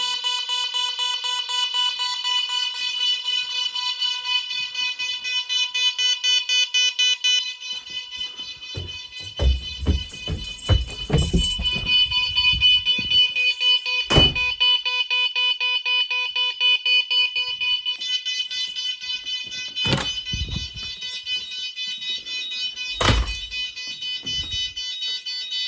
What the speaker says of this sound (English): there's a fire alarm going off in this building